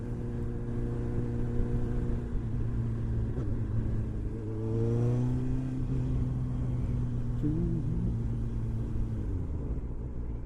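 A small engine revs and idles with a steady rumble, pitch swelling upward around the middle and settling back, as its throttle cable is adjusted; loud and close throughout with no talking.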